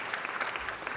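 An audience at a Los Angeles City Council meeting gives a brief burst of dense applause, steady clapping across the whole short moment at moderate distance.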